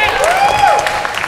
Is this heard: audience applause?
yes